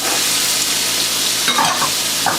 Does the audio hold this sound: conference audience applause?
no